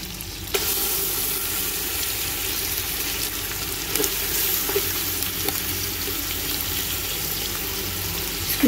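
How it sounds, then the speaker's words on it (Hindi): Chicken frying in a pan with onion, ginger and garlic paste for a chicken pulao, giving a steady, loud, continuous sizzle with occasional stirring scrapes and clinks throughout. "इसमें हम चिकन को अच्छा फ्राई कर लेंगे,"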